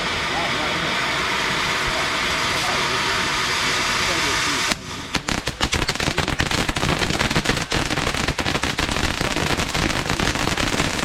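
Fireworks exploding close by on bonfire night, a steady roar giving way after a few seconds to a dense run of sharp crackling bangs and pops, loud and near, with people's voices mixed in.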